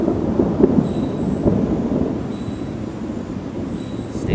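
Distant thunder from an approaching storm rolls as a low, continuous rumble across the whole stretch, steady and moderately loud outdoors, with no talking.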